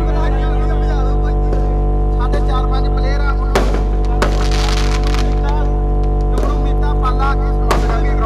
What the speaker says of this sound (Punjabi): ਉਧਰ ਅਸਮਾਨ ਚ ਪਟਾਕੇ ਤੇ ਇਧਰ ਗਰਾਊਂਡ ਚ ਪਟਾਕੇ